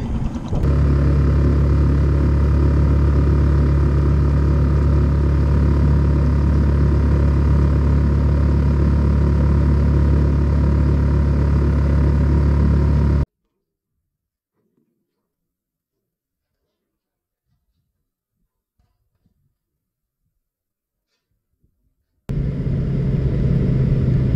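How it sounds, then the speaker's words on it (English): A small outboard motor on a fishing boat drones steadily and loudly up close, cuts to near silence for several seconds, then resumes running. "it took the little motor almost an hour to motor us down to the takeout place"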